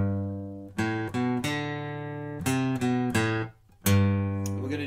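Acoustic guitar plays the second half of a song riff: plucked single notes and a few strummed chords in short bursts with a brief pause near the end, close and unaccompanied.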